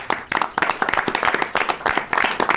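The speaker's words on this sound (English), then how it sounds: "And we'll give you a round of applause." A burst of lively applause from a small group, dense clapping close by with uneven rhythm throughout.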